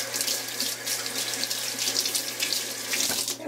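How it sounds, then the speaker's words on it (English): A hand is rinsed under running tap water in a home kitchen after frosting a cream cheese pound cake, a steady close splashing stream running without pause. "And let me rinse this off my hand."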